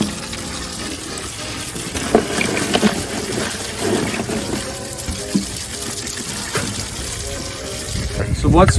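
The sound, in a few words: water flowing from cooler while purging crawfish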